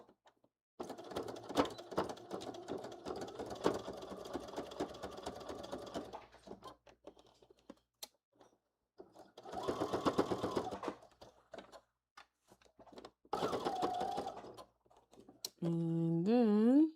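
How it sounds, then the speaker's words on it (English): A sewing machine stitching a fanny pack piece with a half-inch seam runs in bursts: a long stretch of steady rapid stitching, then two shorter runs separated by pauses, followed by a brief rising whine at the end. "Now I'm gonna sew it on, not baste it on, but I'm gonna sew it on using a 1/2 inch seam allowance"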